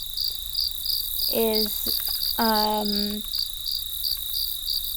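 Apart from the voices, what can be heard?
crickets chirping at night in the woods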